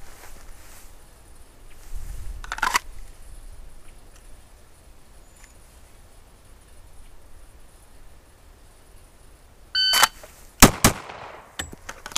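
Pistol shots during draw practice at a range: after a long quiet stretch with one sharp crack early, two quick loud shots ring out near the end, followed by fainter clatter.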